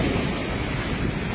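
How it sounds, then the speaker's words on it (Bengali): Strong floodwater current from hill runoff after heavy rain rushes along the Radhanagar–Jaflong road in Sylhet, a steady, loud, broad wash of noise with no one talking. "বর্তমানে দেখছেন যে পানির স্রোত খুবই বৃদ্ধি পাচ্ছে।"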